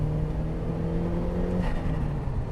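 A turbocharged Mk1 Mazda MX-5 engine pulls steadily on a wet road, a sustained low drone with a slight rise in pitch, heard from inside the cabin with no talking.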